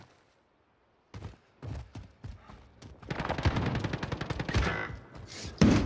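Gunfire in the Call of Duty video game: sparse single shots give way to dense rapid bursts of automatic fire, loud and close, with heavy thuds mixed in.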